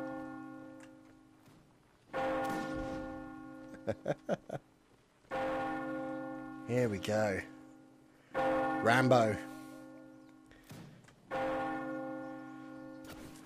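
A church bell tolls in a Mount and Blade Napoleonic Wars village battle, sounding in repeated rich, ringing strikes with long decays, joined by a quick run of sharp clangs, while someone talks over parts of it.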